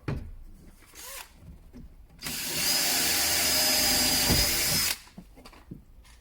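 A power drill bores holes in the front door card of a 2014 Nissan Note, with a sustained whirring run of about three seconds between short handling clicks, close and clear.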